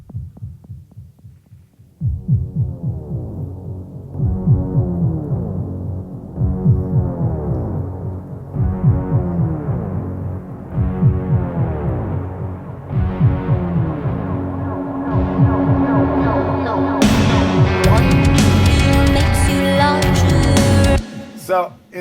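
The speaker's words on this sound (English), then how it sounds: "So I have a synthy kind of drop sound here." A big, wide synth drop plays in a music mix: throbbing low bass pulses repeat steadily and build in density and brightness, then cut off sharply near the end.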